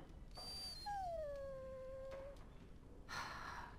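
A dog in the video game Dragon Age: Origins gives a long, drawn-out whining howl that falls gradually in pitch. It is clear and alone over a quiet background, with a shorter whine before it and a brief noisy burst after.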